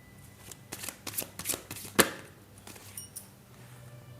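Tarot cards are shuffled by hand in a quick series of crisp riffling flicks and slaps, close and fairly loud, with one sharper snap in the middle before the shuffling tapers off into lighter rustles.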